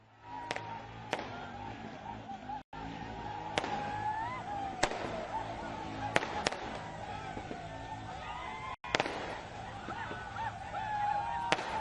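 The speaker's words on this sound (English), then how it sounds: "We're hearing that fireworks are also being burst behind her as the celebrations continue." Sharp cracking bangs of fireworks burst at irregular intervals over a steady background of crowd noise and murmur, during street celebrations in Guwahati, India, after India's T20 World Cup win.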